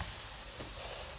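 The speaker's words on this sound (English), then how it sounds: "I'll show you the mushrooms that I'm cooking down" Mushrooms searing in a pan give off a steady, soft sizzling hiss, even and unbroken, with nothing else heard.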